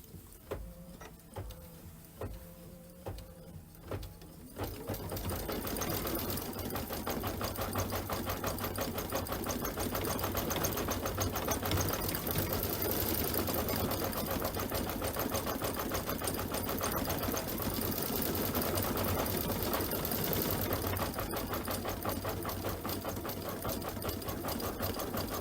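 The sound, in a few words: embroidery sewing machine stitching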